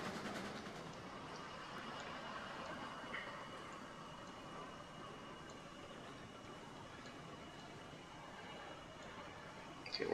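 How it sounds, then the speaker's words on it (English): A small, underpowered locomotive in Derail Valley rolls steadily along the rails, giving a faint, even rumble with soft clicking and rattling throughout and no talking. "So it's a nice little locomotive,"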